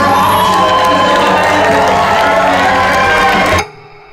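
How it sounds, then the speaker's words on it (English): A loud bodybuilding show crowd cheers, whoops and shouts with children's voices mixed in, holding a steady roar before cutting off abruptly near the end. "The crowd was pretty loud"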